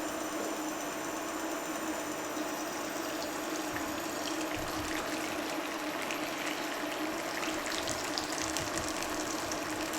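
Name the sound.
tap water rinsing chicken drumsticks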